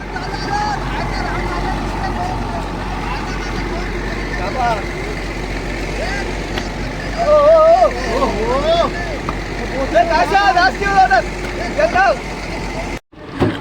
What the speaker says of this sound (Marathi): ही बाजूला एक बोट आहे